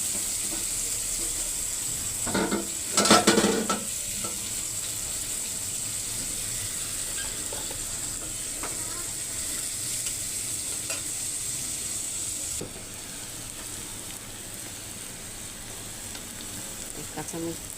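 Chopped onions fry in hot oil for a fish-head curry, giving a continuous sizzling hiss. A burst of stirring clatter comes early, and the sizzle drops a little quieter about two-thirds of the way through.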